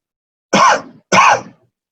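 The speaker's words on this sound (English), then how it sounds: "cough a couple of times onto the surface of the plate" Two sharp coughs close to the mic, about half a second apart, delivered a few inches above the surface of an agar plate in a lab setting, with silence around them.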